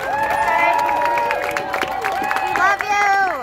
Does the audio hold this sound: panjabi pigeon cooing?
no